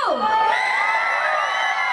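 A crowd at a city fun run in Yamunanagar cheers and shouts together, a loud, sustained burst of voices and whoops that rises quickly and carries on without a break.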